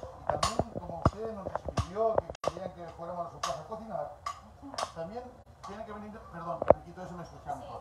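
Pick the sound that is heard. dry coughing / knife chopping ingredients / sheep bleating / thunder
knife chopping ingredients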